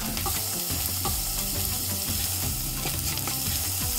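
Grated carrots and crushed garlic fry in a pan, a steady close sizzle broken by the scrape and clatter of stirring, with no voices.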